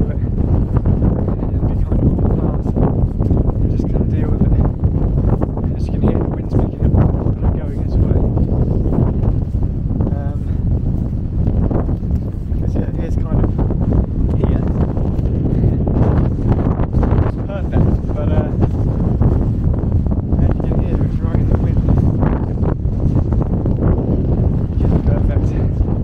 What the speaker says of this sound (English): I think I might just have to battle with the wind a little bit.